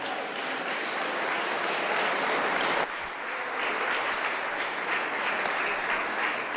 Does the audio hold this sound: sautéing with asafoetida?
no